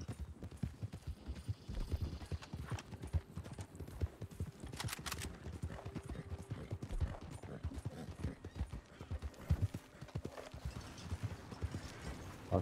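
Horse hooves clatter in rapid, continuous clip-clop rhythm while riding in the video game Red Dead Redemption 2, close and steady throughout with faint game ambience and no talk.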